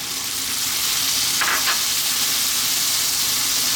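Fish sauce and dark soy splash into a whole sea bass frying in a hot wok, a steady loud sizzle with a brief surge of crackling hiss as the liquid hits the pan.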